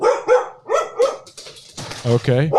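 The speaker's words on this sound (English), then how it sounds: "That's my dog" A pet dog barks and yips repeatedly nearby in uneven bursts, with a person's voice speaking over the end of the barking.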